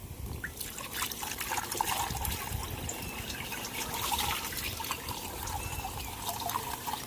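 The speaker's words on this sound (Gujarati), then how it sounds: "હવે નાખી દઈએ પાણી." Water trickles and splashes steadily into a spray pump tank while pesticide is mixed for spraying a maize field outdoors, a continuous close liquid gurgle with no talk.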